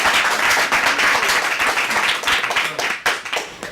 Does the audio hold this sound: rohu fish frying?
no